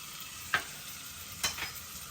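Sweet corn soup with onions, green chillies and chilli sauce is stirred in a pan over a faint steady sizzle, with two soft scraping strokes of the spoon and no talking.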